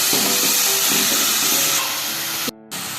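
Ginger garlic paste frying with chicken in a karahi gives a loud, steady broadband sizzle and hiss, broken by a brief near-silent gap before the sizzle resumes.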